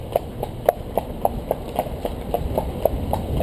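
A ridden horse walking on a hard road, its hooves clip-clopping in a steady, even rhythm of sharp, close knocks.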